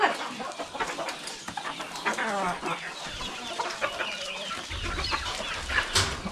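Village backyard chickens in a Konkan poultry yard cluck loudly and continuously, several birds overlapping close by, with a rooster's call and faint voices mixed in.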